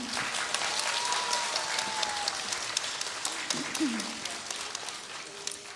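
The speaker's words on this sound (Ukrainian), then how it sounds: "Оплески вам!" Audience applauding the parents of Hratsiia, a Ukrainian children's dance group, at an end-of-season event: a steady wash of clapping fills the room, with a voice talking briefly over it.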